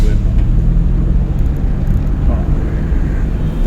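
A driving school car pulls away in second gear, its engine a steady low rumble with road noise filling the background. The hum stays constant and close, with no sharp shifts.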